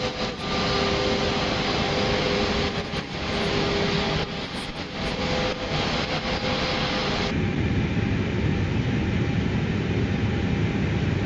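Airliner jet engine in Flight Simulator 2024, a steady, loud broadband roar that holds throughout, dropping slightly in brightness partway through, with no voices over it.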